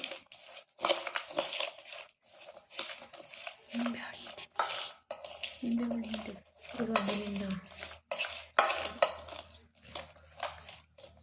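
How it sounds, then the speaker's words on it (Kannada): Churmuri being mixed by hand, crunchy mixture and peanut-oil fried items rustling and crunching in a bowl in short close bursts, with quiet speech and a few brief tonal voice sounds between them. "ಇವಾಗ ಎಲ್ಲ ಮಿಕ್ಸ್ ಮಾಡಬೇಕು."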